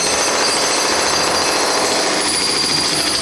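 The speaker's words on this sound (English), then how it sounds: "When you are chipping concrete" Concrete being chipped, heard as a continuous loud, harsh hammering buzz with no breaks, filling the whole short stretch.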